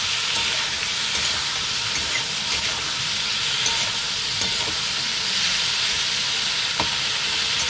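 Turmeric being stirred into ivy gourd and potato pieces frying in a pan, with a steady, continuous sizzle and faint scraping of the stirring, close up and unbroken, with no talking.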